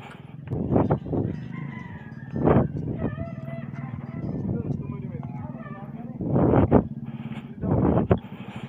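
A rooster crows a few times at mid distance on a farm over steady background noise, with people talking nearby.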